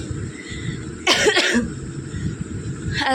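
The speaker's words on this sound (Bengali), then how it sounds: "ফ্যানের নিচে বসেছে আর আমার কাশি শুরু হয়ে গেছে" A woman coughs indoors while sitting under a ceiling fan and feeling unwell: one sharp burst of two or three close, loud coughs, then a faint start of another at the end over steady room hum.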